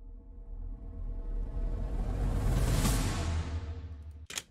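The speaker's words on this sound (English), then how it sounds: "So I got this transition riser thing from the typical 1k kit." Transition riser effect from the Typical 1k kit: a rising whooshing swell of noise and tone that builds steadily louder and brighter over about four seconds, then cuts off sharply into a brief hit at the end, heard alone.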